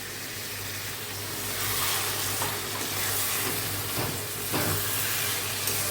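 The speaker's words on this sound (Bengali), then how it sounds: "এখন আরও একটু ভাজা ভাজা হবে।" Snake gourd fries in a pan with a continuous soft sizzle and hiss, while occasional stirring scrapes cut through the quiet frying.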